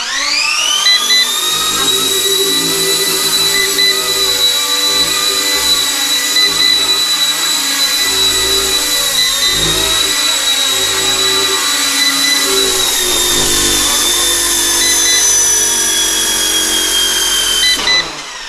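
A high, steady motor whine holds at nearly constant pitch throughout, like a small RC helicopter's rotor and motor running close by; the helicopter is an ERA C189 MD500E.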